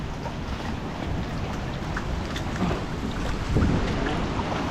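Strong wind and rushing floodwater during Typhoon Uwan, a steady dense roar that swells slightly toward the end, with no voices.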